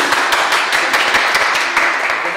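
Close, brisk applause from a children's folk dance class as parents and children are cheered, many overlapping handclaps in a dense steady patter without speech.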